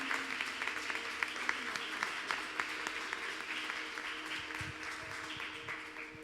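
Congregation applauding during a church service, a steady spread of many hands clapping at moderate level with some faint voices mixed in, continuing throughout without a clear break.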